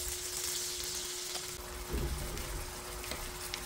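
Pork binagoongan sizzles steadily in a hot pan just after bagoong shrimp paste is added, a continuous close frying hiss with a few soft stirring bumps and no talking.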